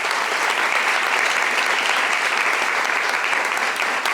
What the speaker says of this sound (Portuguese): Vamos dar uma forte salva de palmas